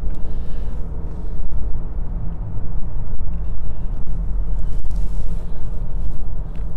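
A car cruising on a road with cruise control set, a loud steady engine and road rumble close inside the cabin, with occasional faint knocks and no talking.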